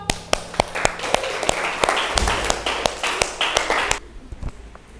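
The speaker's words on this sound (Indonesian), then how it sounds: "Kelompok Anam, beri tepuk tangan dong" Classroom students applaud a group about to present, a dense patter of hands with sharp, loud claps close by, stopping abruptly near the end while a few stray claps linger.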